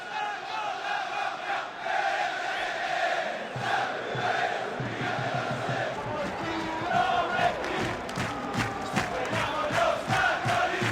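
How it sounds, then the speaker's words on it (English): Simulated stadium crowd from the football video game PES 6, in a Champions League match at the final whistle: a loud, sustained roar and cheering that swells and carries on for several seconds, with rhythmic chanting rising toward the end. "A huge roar from the crowd as the referee blows the final whistle"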